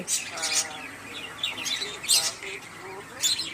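A myna bird chatters and whistles in a series of sharp, varied calls, some sounding like mimicked speech, close by with short pauses between bursts.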